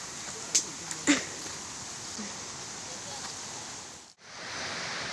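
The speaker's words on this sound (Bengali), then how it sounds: "এই যে ঝর্ণার জলের একটা যে সাউন্ড বা শব্দটা এত ভালো লাগে না শুনতে" Steady broadband rush of water from a mountain waterfall stream on the Yelbong River canyon trek, constant and fairly close, with a couple of brief clicks early on and a short dip near the end.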